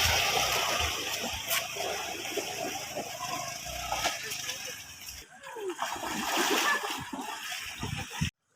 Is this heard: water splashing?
yes